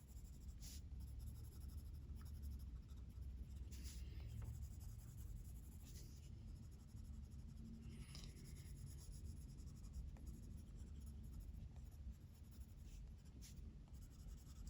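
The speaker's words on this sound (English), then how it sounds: "my only goal is to get the pigment down on the paper" Colored pencil scratching steadily across paper while coloring a book page, a quiet, continuous rubbing with soft strokes and no speech.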